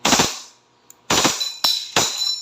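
A WE 2011 Hi-Capa 5.1 Type K airsoft pistol fires sharp, loud, close bursts on full automatic, with four distinct cracking shots and short decaying tails between them, no talking.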